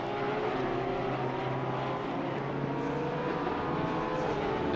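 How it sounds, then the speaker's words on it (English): Porsche race cars lap Laguna Seca in Assetto Corsa Competizione, their engines giving a continuous loud, steady drone with shifting pitch as the cars run close together. "baby blue Porsche on baby blue Porsche action here"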